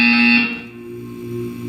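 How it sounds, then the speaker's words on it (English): A steady, loud electronic buzzer from the video game Portal 2 drones alone, then eases slightly in volume and continues as a held tone. "You will hear a buzzer."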